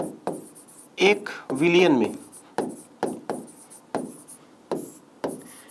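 Chalk or marker scratching out a question on a classroom board during a chemistry lesson, a series of short repeated scraping strokes, with a teacher speaking briefly over the writing.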